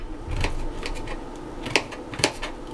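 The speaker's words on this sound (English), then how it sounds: "So go ahead and cut all your vegetables" Knife chopping vegetables for homemade spicy pasta, with sharp irregular cuts against a board, two louder taps standing out near the end, close and fairly quiet with no talk.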